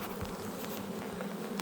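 Honey bees swarm in an opened beehive with the crown board lifted, a dense, continuous close buzzing hum with no voices.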